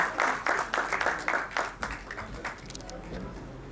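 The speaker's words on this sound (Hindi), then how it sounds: "मैं जोरदार तालियां उनके लिए भी चाहता हूं, शास्त्री जी के लिए भी।" Scattered, uneven clapping from a crowd, fairly close, tapering off toward the end.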